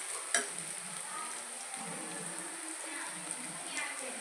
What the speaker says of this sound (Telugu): ఉల్లిపాయలు బాగా ఫ్రై అయిపోయాయండి.